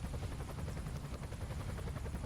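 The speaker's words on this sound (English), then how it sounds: "Transport injured people with a recovery helicopter." A recovery helicopter in the game Emergency 5 sounds its steady rotor thump, a continuous low chopping beat heard alone at moderate volume with no talk.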